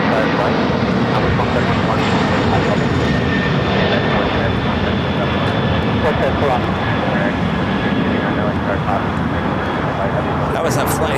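An airliner on a Cincinnati-bound flight passes at LAX. It gives a steady, close, broad engine roar with faint whining tones, and voices can be heard talking over it.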